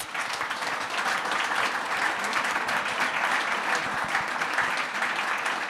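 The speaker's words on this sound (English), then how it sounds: "Can I just ask everyone to give them a big round of applause?" Applause fills a hall after a media panel discussion, a thick, even roar of many clapping hands that holds steady throughout, moderately loud and without speech.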